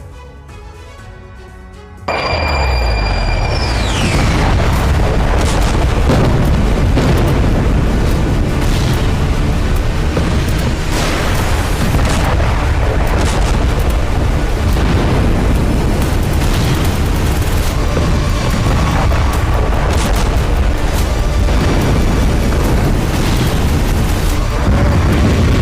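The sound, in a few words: loud explosions from air strikes, fireball rising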